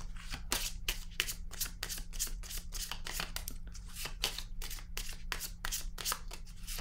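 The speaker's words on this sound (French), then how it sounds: "Je vais déposer une carte ici, une carte rose." Cards are shuffled over and over for a tarot-style reading, a close, steady run of quick riffling flutters with no speech.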